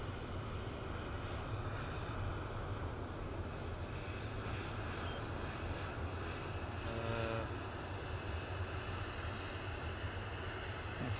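A departing airliner at Manchester Airport produces a sustained, broad jet engine roar that holds fairly even for the whole stretch, heard from a distance without any talking.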